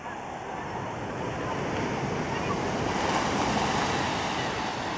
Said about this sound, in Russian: Но сегодня волны хорошие.